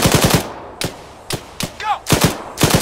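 Squad automatic rifles fire in the Arma 3 military shooter, loud close bursts of rapid shots broken by short gaps, with a brief whistling ricochet between volleys.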